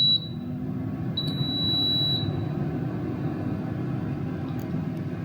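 An air fryer preheating gives a steady, close fan whir that runs for the whole stretch, with a couple of short high beeps near the start.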